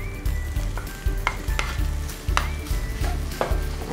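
Boiled, mashed potatoes being stirred into frying onions in a pan, with rhythmic scraping strokes and clinks over a steady close sizzle, with no one speaking.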